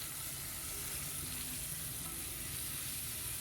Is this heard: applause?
no